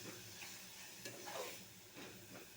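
Paneer curry mixture frying in oil over a medium flame, giving a steady close sizzle with soft scraping stir strokes scattered through it.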